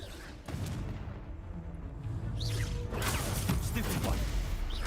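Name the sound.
Confringo spell being cast in the video game Hogwarts Legacy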